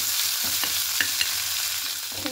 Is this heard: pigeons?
no